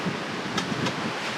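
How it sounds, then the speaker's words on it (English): Wind blowing outdoors at a campsite, a brief steady rushing hiss with gusty buffeting against the microphone and no voices. "It's pretty windy out here today."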